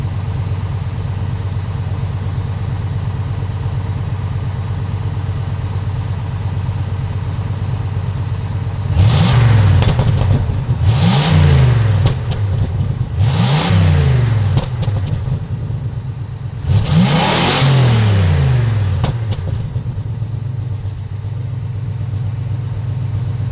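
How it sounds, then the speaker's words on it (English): A car engine with a bone stock exhaust idles low, then revs up four times in quick sweeping bursts of rising and falling pitch before settling back to a steady idle, loud and close. "now this is her revving up before the exhaust"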